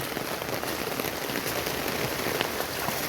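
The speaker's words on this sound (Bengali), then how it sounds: "আপনাদের বৃষ্টি দেখানোর জন্যই ভিডিওটা করা মূলত" Steady rain patters densely on surfaces nearby during a thunderstorm, on a waterlogged street, a constant hiss of drops with no voices.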